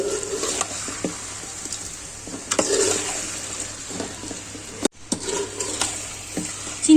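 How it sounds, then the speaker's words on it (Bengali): Sugar being stirred into a jujube pickle in a pan, with steady scraping and swishing strokes and a soft sizzle underneath, close and moderately loud, with no voices. "চিনি দিয়ে আমি ভালো করে নেড়ে মিশিয়ে দিচ্ছি।"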